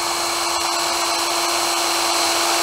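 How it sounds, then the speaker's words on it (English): A power drill bores a hole in hard oak wood, giving a steady, loud high-pitched whine with a constant tone that runs without a break from start to finish. "I'm going to try drilling a hole. This is oak wood, so it's really hard to drill"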